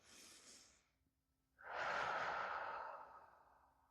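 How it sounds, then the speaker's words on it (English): A person breathes slowly during a relaxation exercise: a short airy exhale, a pause, then a long, close, audible breath that fades out gradually. "you take a rest, and you breathe in"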